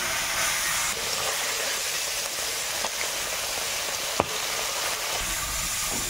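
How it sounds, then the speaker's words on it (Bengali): Parshe fish frying lightly in a pan of oil for a fish curry, giving a steady, moderately loud sizzle and hiss throughout with a few faint clicks of utensils. "পার্শে মাছ বেশি ভাজবো না, হালকা একটু ভেজে নিয়ে উঠিয়ে নেব"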